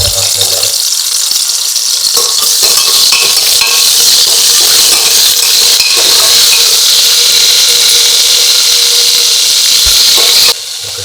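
Mutton fat frying in hot oil, a loud continuous sizzle and hiss with a high squealing edge, punctuated by occasional crackles and stirring clatter, with talking mixed in for part of the time.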